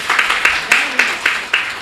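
An audience applauds at a World Hindi Day speech event, a short burst of rhythmic clapping at a steady beat, fairly loud and close, with no talk over it.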